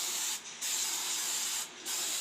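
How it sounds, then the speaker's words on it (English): Aerosol adhesive sprays onto old vinyl floor tile in two steady hissing bursts, each separated by a brief pause, close and fairly loud with no talking. "purchase your own adhesive in a spray form in an aerosol can and go ahead and apply it to the old tile"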